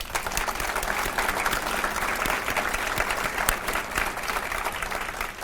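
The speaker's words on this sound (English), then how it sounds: "I would like to lead in a round of applause for those people" Volunteers receive a sustained round of applause from a breakfast crowd, dense steady clapping from many hands filling the room without a break.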